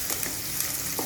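Two thinly cut garlic cloves frying in hot oil for a ridge gourd and capsicum curry, a close, continuous crackling sizzle with light stirring taps.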